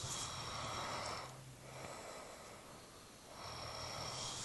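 A man snores in bed at night, two long rasping snores with a quiet breath between them, close and fairly loud.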